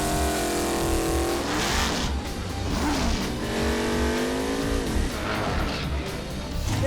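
A drag racing car does a burnout, a loud, steady engine roar and screeching tire squeal that rises and falls in pitch, with no pauses, heard from trackside.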